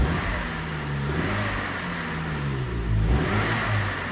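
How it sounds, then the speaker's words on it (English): A Saab engine with a worn turbo gets a slight throttle, its mid-pitched hum swelling into a revving rise with a faint whooshing whir over the rumble, close and unaccompanied by talk. "Giving it a slight throttle, let's see if you can hear the turbo"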